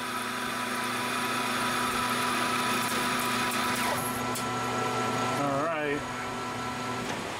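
Metal lathe cutting steel with an annular cutter held in the tailstock, throwing hot blue chips, a steady loud machine drone with tonal whine throughout and a brief rising squeal near the end.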